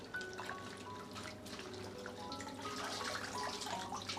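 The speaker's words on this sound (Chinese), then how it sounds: "我们简单的在盆中把白菜清洗一下就可以了。" Cabbage is rinsed by hand in a basin of salt-soaked water, with close, continuous sloshing and trickling splashes and small drips, no voices.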